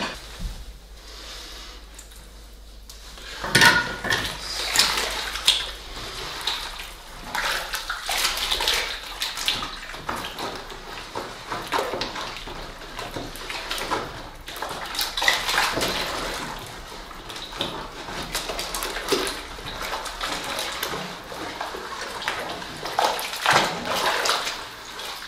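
Liquid plaster poured into a mould to cast a crucifix, heard as a sustained watery splashing and gushing with squishy handling noises, close and fairly loud throughout.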